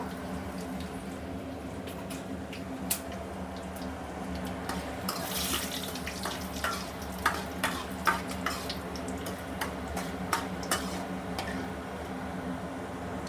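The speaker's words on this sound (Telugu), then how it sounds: "ఆయిల్ హీట్ ఎక్కిన తర్వాత ఎండుమిర్చి ఈ విధంగా మనం వేసి వేయించుకుందాము" Dried red chillies fry in hot oil for a prawn masala curry, a continuous sizzle with scattered sharper pops and crackles building toward the middle.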